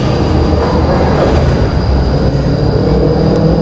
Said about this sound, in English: noisy tram